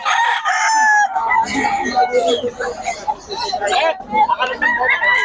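A rooster crows loudly nearby, with people chattering and other chickens clucking in the background.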